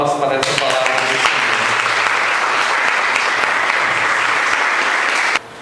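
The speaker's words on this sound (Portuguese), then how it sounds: "Vamos dar uma salva de palmas para essa palavra do Senhor" A church congregation bursts into sustained applause after a scripture reading, loud dense clapping with a few voices mixed in, cutting off abruptly near the end.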